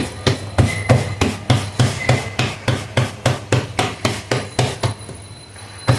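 Bhakri dough gets patted flat by hand on a board, a regular series of close, crisp slaps at an even tempo that slows briefly near the end, with no talking.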